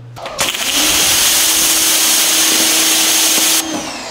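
A pressure washer running at 1800 PSI, about 2 gallons per minute, sprays steadily from a wand nozzle, a loud continuous hiss with a motor hum that starts abruptly and cuts off near the end.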